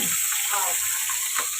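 A mackerel sizzles and spits steadily in hot oil on a griddle, a close, constant crackling hiss over a brief moment.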